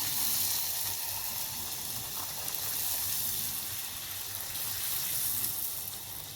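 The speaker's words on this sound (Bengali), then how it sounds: "এই যে লুচি ভেজে নিচ্ছি" Luchi deep-frying in hot oil, a steady dense sizzle and hiss that holds at an even level, close and continuous with no voices.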